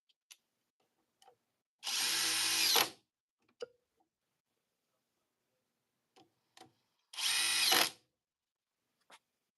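Power drill driving 8-inch timber lock screws into wood: two sustained, loud bursts of whirring drive, each about a second long and separated by a pause, with faint clicks and taps between them.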